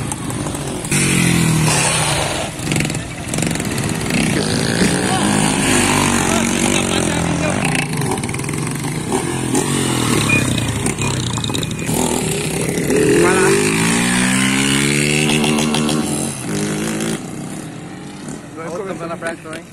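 Motorcycle engine revving hard and continuously during a wheelie stunt, loud and close, with excited voices talking over it throughout.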